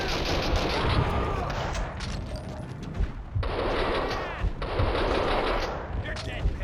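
In the video game Max Payne 2, a Kalashnikov fires in long rattling automatic bursts, loud and close. The bursts break off briefly around the middle, and other game sounds run underneath.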